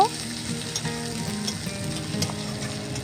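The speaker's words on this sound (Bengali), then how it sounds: "পেঁয়াজ আর শুকনো মরিচ হালকা লালচে করে ভেজে নেব" Chopped onion and dried red chillies fry in hot oil for a cabbage paste dish, a loud, continuous close-up sizzle broken by quick stirring scrapes, with no voices.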